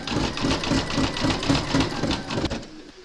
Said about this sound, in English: Load your thread colour for the satin stitch around the doorstep into your machine, and then you're going to stitch round number 36.